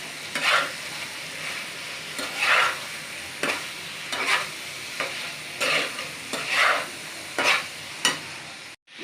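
Chicken stir-fried with spices in a hot pan, a continuous sizzle swelling in regular bursts as the ingredients are turned and scraped, close-up with no talking, ending in a sharp knock.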